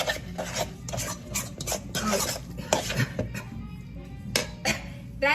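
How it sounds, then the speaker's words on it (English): Mashed avocado guacamole is stirred and scraped in a bowl with a utensil, giving repeated close rasping and clinking strokes in an uneven rhythm. "And then I'm just going to mix the rest by hand."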